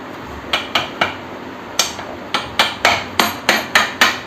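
A hammer drives the axle into the rear wheel of a Yamaha R15 motorcycle, a series of about a dozen sharp metallic blows, irregular at first and then quickening into a steady rhythm, close and loud.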